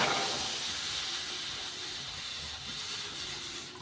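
Water pours into a cooking pot in a steady, close stream, making an even rushing hiss that holds for about four seconds with no talking.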